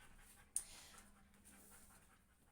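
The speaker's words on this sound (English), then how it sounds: "Sorry about my dog's breathing loud." A dog pants quietly nearby, with soft rhythmic breaths and one brief sharper snort near the start, in an otherwise quiet room.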